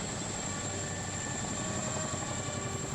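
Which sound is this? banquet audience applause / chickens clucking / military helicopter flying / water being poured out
military helicopter flying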